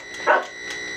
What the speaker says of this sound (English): I'm getting a dog barking now.